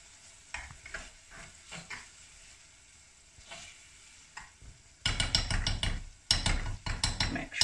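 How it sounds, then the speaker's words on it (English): Spices stirred into a vegetarian meatball curry frying in a pan: soft sizzling with light stirring scrapes at first, then louder, dense sizzle and clatter from the pan in the last few seconds. "Give that a stir in."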